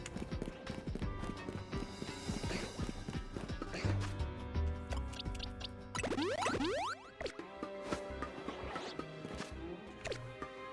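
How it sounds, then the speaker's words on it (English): Horse hooves clip-clop in a video game, a steady trotting rhythm with whinnies, busy game music and sound effects layered around it, and a voice now and then. "Horse."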